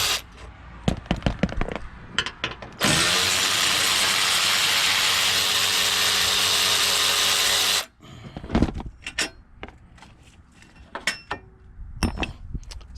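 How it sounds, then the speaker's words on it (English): Bolts being pulled from the radiator bracket of a 2007 Ford F550 with a 6.0 engine: sharp metallic clicks and ratcheting bursts, then a long steady loud whirring of a power tool for about five seconds, followed by more scattered clanks. "Right now, I'm pulling the bolts out of the radiator bracket"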